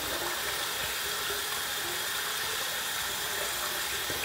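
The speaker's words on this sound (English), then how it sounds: "A little swirl in the sink." Running water from a sink tap, steady and fairly loud, as a shaving razor is swirled through it during a head shave; a continuous hiss with no talk.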